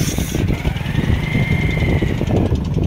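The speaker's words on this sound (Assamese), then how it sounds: "এইখন নাও একদম পূৰা মেচিন লগাই চলাইছে" A motorboat engine runs steadily throughout, a continuous mid-pitched mechanical drone with a faint rising whine, close and loud on the water near a dry reservoir area.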